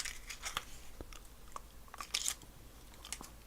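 Gum being chewed close to the mic, a run of soft wet crunches and bites with sharp crackly snaps, quiet and unhurried with no talking.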